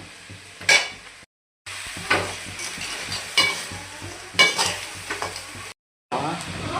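Ingredients for a crab curry stir and sauté in a pan, a constant low sizzle punctuated by scraping and clinking spoon strokes against metal, broken by two short silent gaps, with no talking.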